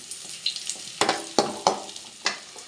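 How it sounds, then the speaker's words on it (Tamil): Onions fry golden in a pan for a country chicken curry, a close, steady sizzle broken by several sharp scraping stirs of a spatula, with no voices. "வெங்காயம் நல்லா பொன்னிறமாக வந்துருச்சு பாருங்கள்"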